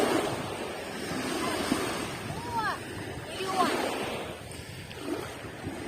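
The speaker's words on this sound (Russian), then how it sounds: "Чистое море, спокойное." Calm, clean sea washing onto a beach in November in Turkey, a soft steady wash of surf with light wind noise, a few faint bird-like squeaks and muffled voices in the background.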